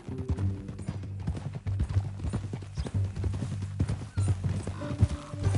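A horse walks in the video game Red Dead Redemption 2, its hooves giving a steady, close clip-clop rhythm with a short whinny-like sound near the end.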